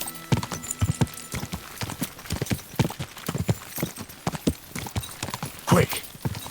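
Hooves clip-clop in a steady rapid galloping rhythm as a horse runs in the video game Kingdom Come: Deliverance 2, with a brief whinny near the end. Someone talks intermittently over the hoofbeats.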